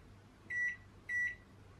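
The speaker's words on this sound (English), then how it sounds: "Okay, I will open the microwave. I will put it." Two short, identical electronic beeps ring out from a microwave oven as it is set, spaced about half a second apart over a faint background hum, with no voices.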